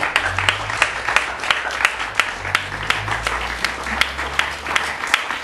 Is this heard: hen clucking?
no